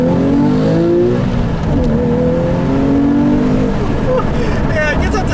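A 2013 Porsche 911 Carrera with a manual gearbox and 350 horsepower revs hard and climbs in pitch as it accelerates, loud and close, with a brief gear change partway through.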